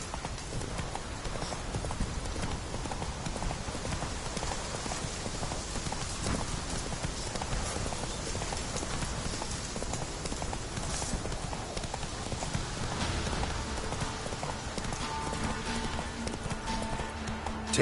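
Roach the horse's hooves clip-clop at a steady trotting rhythm in The Witcher 3, a continuous, fairly quiet patter of hoofbeats running under a dense layer of game ambience.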